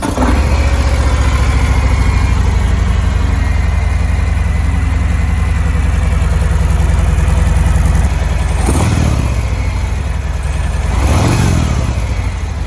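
A Harley-Davidson Sportster motorcycle idles close by with a loud, steady, deep rumbling throb, broken by two brief blips of the throttle near the end.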